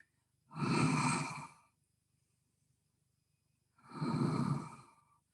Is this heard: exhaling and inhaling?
yes